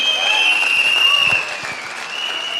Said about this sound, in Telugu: గౌతమ్ బాలీ సార్కి ఒకసారి జోరుగా క్లాప్స్ ఇద్దాం బాలీ గారికి